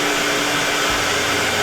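A Sienci LongMill CNC router runs with its dust vacuum, a steady loud whirring roar with constant high hiss and a low hum that shifts slightly partway through.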